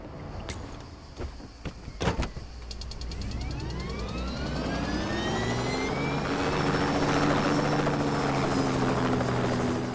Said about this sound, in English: they're kind enough to give us a helicopter with a weapon on it